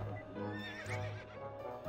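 A horse whinnies loudly in the video game To The Moon, a drawn-out neigh with a rising, wavering pitch, and faint hoof clip-clops sound beneath it.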